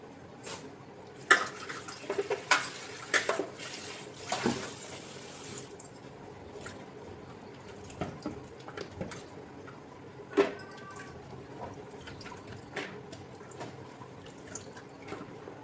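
Dishes and a large vessel being washed at a sink, with sparse drips of water, scattered clinks and knocks of pots and utensils, fairly quiet and close.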